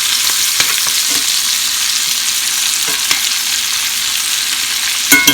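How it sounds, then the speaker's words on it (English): Apples sizzle steadily as they fry in a pan, with a few soft scrapes and taps from stirring and a brief louder clatter near the end, no voices. "I'm just going to kind of stir the apples around in there."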